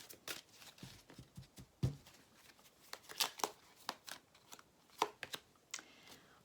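Oracle cards are handled and shuffled close by, with soft flicks, slides and taps of card stock coming in irregular quick bursts at low volume.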